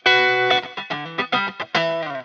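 Distorted electric guitar played through effects, a sustained chord followed by a run of choppy, rhythmic stabs with a final ringing chord, loud and close.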